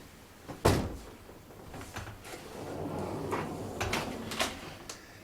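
Sliding barn door moving along a newly mounted track on a custom bracket, with a sharp knock early on followed by rolling rumbles and a few thuds, close and moderately loud.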